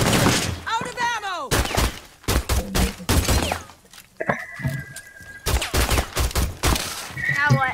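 Rapid bursts of gunfire in the video game Rainbow Six Siege, loud and close, with short volleys broken by brief pauses, a shattering impact and a sustained electronic tone, while a voice talks in between.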